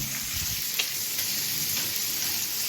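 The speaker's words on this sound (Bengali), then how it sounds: "এদিকে চলছে চিংড়ি কষা" Shrimp for chingri kosha fry in a pan at home with a close, steady, hissing sizzle. Faint stirring scrapes sit under it, and no one speaks.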